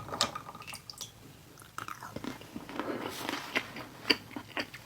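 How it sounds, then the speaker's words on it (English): Close, quiet bites and chewing of cold mini chocolate frosted donuts straight from the fridge, with soft crunches of chilled chocolate and moist squishy mouth sounds in an irregular rhythm. "Let's eat some mini chocolate frosted donuts."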